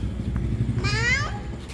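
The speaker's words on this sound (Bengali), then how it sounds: "ম্যাও ম্যাও" A single drawn-out cat meow rising and falling in pitch, heard over a low, steady rumble of traffic.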